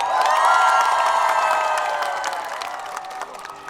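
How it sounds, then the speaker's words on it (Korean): A crowd at an outdoor road-naming ceremony in Sacheon, South Korea, cheers and whoops with high shouts over scattered clapping, loud at first and slowly fading. "여러분 박수로 맞아주시기 바랍니다"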